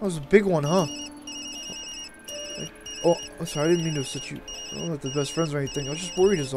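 A phone rings in the video game Tokyo Dark, a repeating electronic trill in short pulsed bursts under steady conversation between two people.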